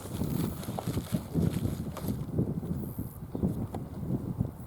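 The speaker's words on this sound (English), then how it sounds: "Yeah, it's really windy today, guys." Strong outdoor wind buffets a microphone in a steady low rumble with gusty surges throughout, loud and close.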